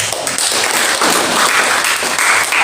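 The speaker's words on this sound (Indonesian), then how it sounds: "Tepuk tangan buat Tuhan." A church congregation claps steadily during praise and worship, dense sustained applause filling the room without a break, loud and close.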